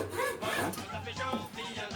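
A handsaw rasps back and forth through a piece of wood being shaped into a fife, with close, steady strokes in a quiet room.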